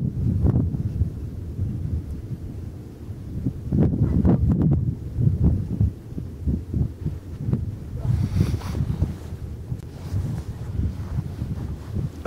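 Heavy wind buffets the microphone in rumbling gusts while filming an eruption of Mount Etna, with a voice calling out briefly over the roar.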